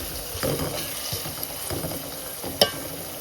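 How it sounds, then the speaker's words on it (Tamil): Onions sautéing in a pan for a white biryani, a low steady sizzle with a few soft stirring scrapes and one sharp clink near the end. "பாருங்கள், வெங்காயம் வதங்கிடுச்சு."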